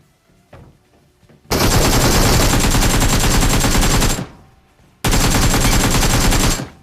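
Automatic gunfire in the mobile game BGMI: two loud, dense, sustained bursts of rapid shots, the first about three seconds long and the second about two, separated by a short quiet gap.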